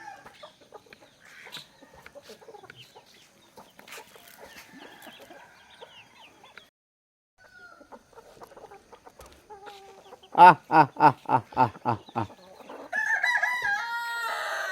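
Chickens at a rural home cluck and scratch softly at close range, then a rooster lets out a loud rhythmic crow, followed by more excited clucking.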